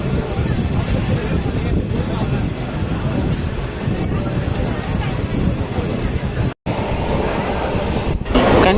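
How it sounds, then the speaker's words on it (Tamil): Kanyakumari–Dibrugarh Vivek Express running on the bypass line near Arakkonam, with a steady, loud rumble of wheels and carriages that continues throughout and briefly drops out near the end. "கன்னியாகுமரி டிப்ருகர் விவேக் எக்ஸ்பிரஸுங்க."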